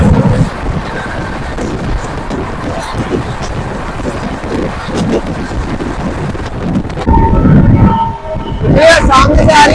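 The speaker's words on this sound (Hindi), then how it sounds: "ये है संपूर्ण क्रांति एक्सप्रेस आम जनता की राजधानी आ रही है" The Sampoorna Kranti Express arrives at a station in Bihar with a low, rumbling roar muffled by heavy wind buffeting on the microphone, growing louder near the end. Someone talks over it.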